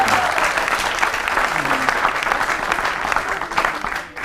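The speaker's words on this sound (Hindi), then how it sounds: "ताली बजाओ फिर।" Audience applause at a Hindi comic poetry event during election-themed verses, a dense, steady wash of clapping from a crowd that holds strong throughout before easing slightly at the end.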